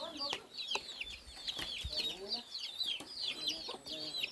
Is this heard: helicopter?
no